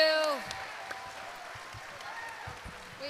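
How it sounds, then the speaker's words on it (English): An audience at a convention voice actor panel claps, the applause starting strong and thinning into scattered, quieter claps that trail on, with voices mixed in. "let's give them a big round of applause."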